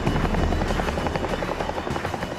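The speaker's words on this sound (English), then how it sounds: "Roberts' colleagues have been picked up by another Chinook and are on their way back to Takur" A Chinook military helicopter drones steadily with a loud rotor throb and engine roar throughout, close and unbroken, with no voices.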